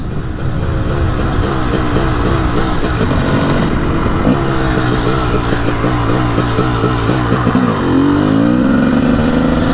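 A Honda CR 250 two-stroke dirt bike engine revs loud and close, its rasping pitch climbing and dropping through repeated throttle blips with no break.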